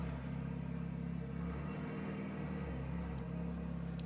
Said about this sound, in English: Car noise.